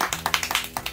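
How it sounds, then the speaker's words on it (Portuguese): A handful of people clap briefly at a family gift-opening gathering, about ten distinct hand claps in a quick, uneven burst, fairly close and moderately quiet. "Receba as palmas do pessoal."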